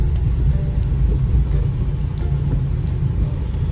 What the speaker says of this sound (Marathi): मजा येते पावसामध्ये गाडी चालवायला